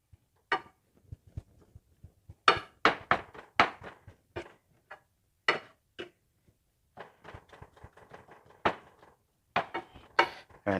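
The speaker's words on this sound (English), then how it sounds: "I like to go ahead and kind of stir it around again" Food is stirred in a pan in a home kitchen, heard as irregular clusters of close, sharp scraping and clattering knocks with brief quiet gaps between them.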